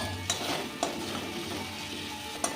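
Fried potato is added to frying lote fish in a pan and stirred, giving a steady close sizzle with a few sharp scraping clicks of the spoon.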